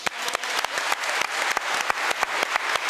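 An audience at a mathematics competition award ceremony applauds with dense, continuous clapping and some distinct individual claps, close and fairly loud, sustained throughout without talking.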